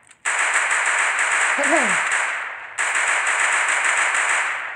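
Rapid, continuous gunfire from the video game Free Fire in clash squad mode, loud and sustained with a brief break partway, while a voice speaks briefly over it.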